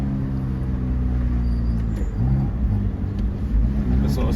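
A Ferrari F430 Spider accelerates hard, its engine note rising in loud stepped revs close by, with a brief voice under the roar.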